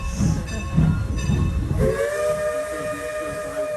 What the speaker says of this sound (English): to blow that whistle back at us